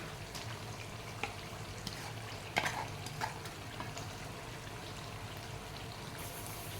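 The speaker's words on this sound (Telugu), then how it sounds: "ఇప్పుడు ఈ గోంగూరని చికెన్లో కలిపేద్దామండి" Mashed gongura leaves are stirred into chicken curry in a pan, giving soft wet scraping and squelching with a few sharper spoon knocks over a low, steady sizzle, quiet and close.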